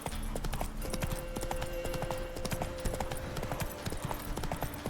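A horse gallops in The Witcher 3: Wild Hunt, its hooves beating a quick, steady clip-clop rhythm close by, with a sustained tonal game sound running faintly underneath.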